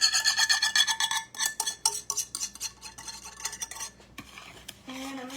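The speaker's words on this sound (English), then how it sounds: "I'm going to stir it well. I'm going to use my whisk for this too." A whisk stirs hot pink gelatin liquid into dry ingredients in a bowl for sour gummy worms, making rapid close metallic scraping and clinking strokes that come in bursts and trail off, with no talk.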